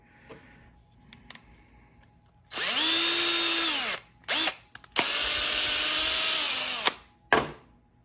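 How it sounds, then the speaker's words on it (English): A power drill whines loudly in two long bursts with short blips between, drilling holes in a 1/6 scale Sdkfz 7 model kit, its pitch steady under load, with quiet clicks and handling noises around it. "Don't let your drill bit get too hot."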